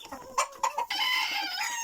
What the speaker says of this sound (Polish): Kurczaczki już konsumują ziarno.